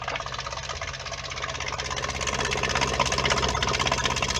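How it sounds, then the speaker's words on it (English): A Whale Watermaster FP0184 water pump kicks on and runs: a steady buzzing motor drone, close by, that swells slightly louder as it keeps pumping. "Pump starts again."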